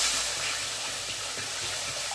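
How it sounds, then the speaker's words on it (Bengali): Water hits a heated wok (kadai) while a vegetarian pasta dish is started, setting off a continuous broad steamy hiss that holds at an even level for about two seconds. "কড়াইতে দিলাম জল"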